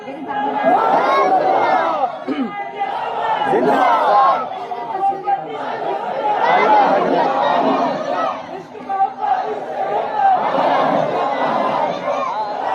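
At a religious gathering, a large crowd loudly chants slogans in unison. Surging waves of many voices rise and fall continuously, close and full, for the whole stretch.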